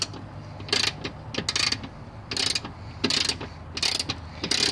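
A ratchet is worked in quick clicking bursts while loosening a ground bolt on a blower motor, close and crisp, in about five short rounds of pawl clicks with brief pauses between them.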